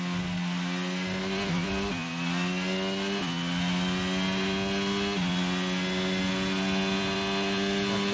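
A Formula 1 race car engine in the F1 22 video game screams at high revs continuously, pitch dipping briefly during gear shifts then climbing again, loud and steady throughout.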